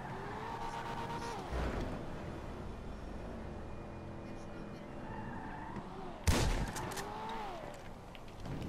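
Gunfire in GTA 5 Online comes as two sharp bursts, one soft, one louder and closer, cutting through steady car engine drone.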